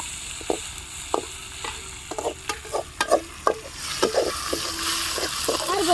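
Mutton paya masala with tomatoes being stirred and sautéed in a large pot, repeated scraping strokes and clanks of a ladle over steady sizzling, building to a louder fry toward the end.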